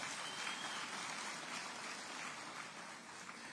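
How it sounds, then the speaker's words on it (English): Audience at a SADC summit public lecture gives sustained applause, an even, hissing wash of many hands clapping at moderate distance with no talk over it. "Let's give him another round of applause."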